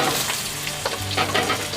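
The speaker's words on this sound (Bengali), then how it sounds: "একসঙ্গেই অন্য সবজিগুলো ভাজবো।" Mixed vegetables for shukto frying together in a pan with bay leaf, giving a loud, continuous close sizzle with stirring scrapes and no talking.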